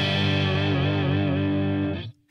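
An electric guitar through a Marshall JCM800 amp plays a sustained, heavily distorted chord, loud and thick, ringing for about two seconds before being cut off abruptly, with no voices.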